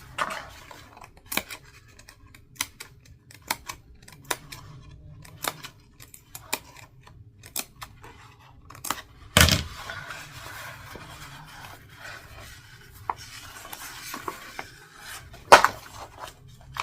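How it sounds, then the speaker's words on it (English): Scissors snip through fabric repeatedly at close range, sharp intermittent cuts with brief pauses and a couple of louder clacks, against a quiet background. "I'm going to use scissors through here."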